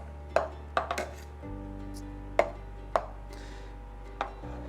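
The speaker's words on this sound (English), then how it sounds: "we're gonna slice all the way down to the bottom of the pot, and we're just looking to cut our curds into square chunks" A knife cuts down through soft mozzarella curds in a pot, giving about six short, sharp taps and clinks against the pot bottom, spaced unevenly over a low steady hum.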